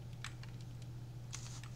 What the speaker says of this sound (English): hopefully if this keyboard is working